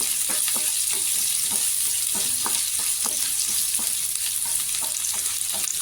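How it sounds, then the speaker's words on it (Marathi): Green chillies and garlic fry in oil in a pan for a spicy potato bhaji, giving a steady close hiss flecked with small crackles and pops throughout. "हिरवी मिरची टाकायची हिरवी मिरचीला पण छान अशी परतायची तेलावर"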